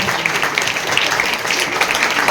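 Sustained applause from a crowd at a Teachers' Day school award ceremony, steady dense clapping throughout with no pause.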